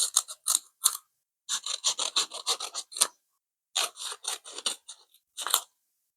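Scissors cut up paper slips with quick, crisp snipping strokes in close rhythmic bursts and short pauses between them, with no talking.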